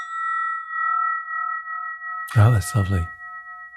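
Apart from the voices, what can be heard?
brass spinning bell ringing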